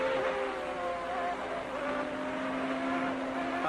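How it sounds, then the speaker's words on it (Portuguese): A 1992 Formula 1 car with a Renault V10 engine and semi-automatic gearbox howls steadily at high revs around Interlagos, a continuous loud scream with slight pitch wavering and no break, unaccompanied by speech. "o giro do motor sempre alto"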